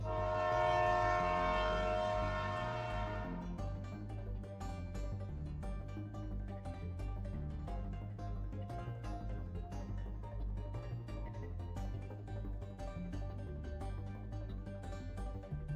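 In a video game, a loud horn blares briefly, then a heavy monster train rumbles past with rhythmic clattering of wheels on the rails, continuing steadily for several seconds.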